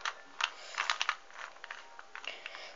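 A 2x2 smart Rubik's cube is turned quickly by hand, giving rapid bursts of light plastic clicks and clacks in an irregular rhythm, close and alone with no speech.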